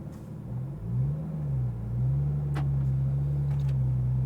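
A Porsche GT3 RS pulls away from a stop and gathers speed, its engine a low droning hum that rises and settles, faint and close, with a few light clicks and no talk.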